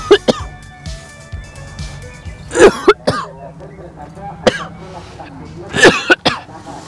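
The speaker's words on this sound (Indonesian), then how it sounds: "abunya, wah, membuat saya batuk-batuk terus pemirsa." A person coughs repeatedly and clears their throat from charcoal ash while emptying a drum of coconut shell charcoal. The loud, close bursts come in uneven fits.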